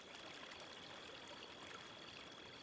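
A flowing stream in The Crimson Maid video game trickles and babbles softly and continuously, a faint, steady wash of water with no voices over it.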